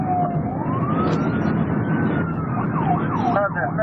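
An ambulance siren wails loudly and steadily, rising and sweeping in long tones before switching to a rapid yelp, heard close against the rumble of traffic.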